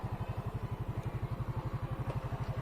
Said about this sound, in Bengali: এখন স্টার্ট করো, সেলফ দাও